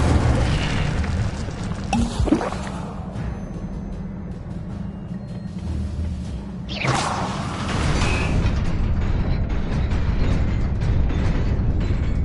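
Fire spells cast in a Harry Potter video game, with a whooshing burst near 2 seconds and a larger roaring flare near 7 seconds over a steady low rumble of game ambience.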